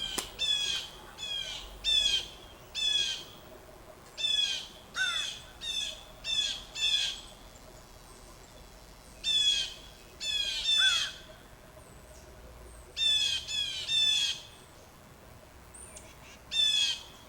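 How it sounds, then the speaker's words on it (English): Crows give repeated harsh warning caws in short bursts, several birds calling back and forth at moderate distance outdoors by a brook, with gaps of quiet between volleys. "the crows are also making us the sound, like a warning sound, or attention, telling the other crows to look down on the ground"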